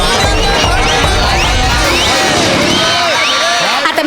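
Audience applause and cheering at a Marathi comedy awards show, a dense loud crowd roar with whoops and shouts throughout, voices mixed in.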